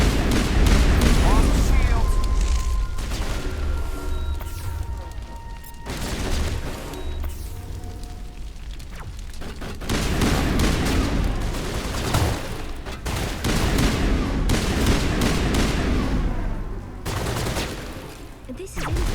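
Dense pistol gunfire and explosive combat effects from the video game Mass Effect, played on Insanity difficulty, rapid shots and booms filling the scene under loud, continuous battle noise.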